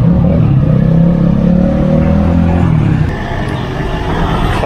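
An old Renault 12TX engine runs close by at a steady, loud idle, with a low rumbling drone that eases slightly partway through.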